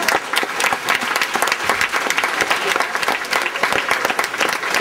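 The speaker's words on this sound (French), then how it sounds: "Et je vous demande aux danseurs et musiciens de vous applaudir." An audience at a Breton Celtic dance and music performance applauds the dancers and musicians, a thick, sustained wash of clapping from a large crowd, loud and even throughout.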